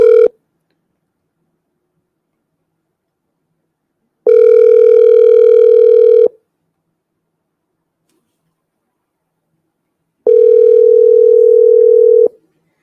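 A WhatsApp call rings out over a phone, a loud steady electronic tone in long pulses of about two seconds separated by several seconds of silence, with no voices.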